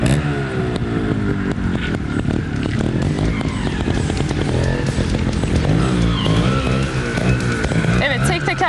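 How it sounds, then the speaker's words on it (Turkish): Trial motorcycle ridden through stunts such as wheelies on the rear wheel, heard as continuous loud engine revving with rising and falling pitch, under steady commentary from someone speaking over it. "Şu an bindiğim motorda trial deniyor bu."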